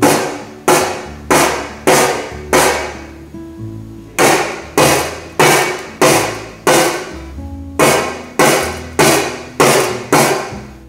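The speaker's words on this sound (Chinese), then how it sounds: "今次大力敲打罐面" A metal can lid is struck hard about eighteen times, with sharp, loud, ringing hits in three quick runs of six separated by short pauses, while small beans rest on the surface. No voices are present.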